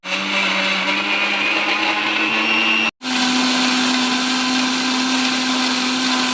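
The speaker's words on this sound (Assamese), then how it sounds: "এতিয়া মই গোটেইখিনি সামগ্ৰী মিক্সাৰত ভালকৈ গুড়ি কৰি" A mixer grinder blends watermelon juice ingredients, a loud steady whirring motor that runs continuously, cuts out briefly, then restarts and drones on alone.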